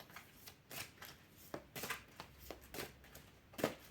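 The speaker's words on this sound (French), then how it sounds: "je vais sortir une carte du tarot des anges pour cette semaine de Dorine Virtue" A deck of angel tarot cards is shuffled by hand in a quiet room, soft riffling bursts and taps in an uneven rhythm, close and faint.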